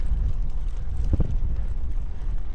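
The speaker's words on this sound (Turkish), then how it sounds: "Bu rüzgar adamı çarpar." Strong wind on a hill road near Marmaris, Turkey, buffets the microphone with a steady low roar and gusty rumble throughout, no voices.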